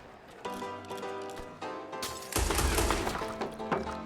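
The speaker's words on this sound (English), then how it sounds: "Some of these cutscenes you can shoot your gun." Gunfire during a cutscene in Red Dead Redemption 2, a rapid volley of sharp shots in bursts, growing louder and denser toward the end, with no talk.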